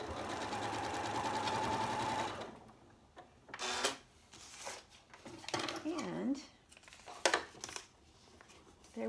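A sewing machine runs in a steady, fast mechanical whir for a couple of seconds while stitching a seam across crumb quilt fabric, followed by quiet handling clicks and rustles.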